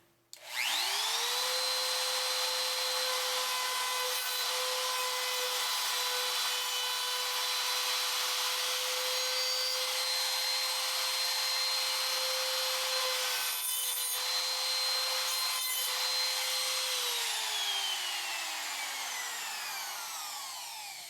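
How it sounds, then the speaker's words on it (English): A large Porter-Cable router with a trim bit cutting trim on an oak platform bed, spinning up to a loud steady whine, holding it for most of the span and winding down near the end. "I would have used this router had that trim bit fit in a 1/4 inch shank router, but it didn't, so I had to use the big Porter cable"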